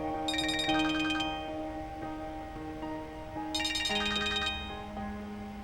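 A telephone plays its ringtone for an incoming call, a bright repeating melodic chime pattern heard twice, close and clear with no talking over it.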